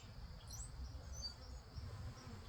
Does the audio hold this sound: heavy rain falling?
no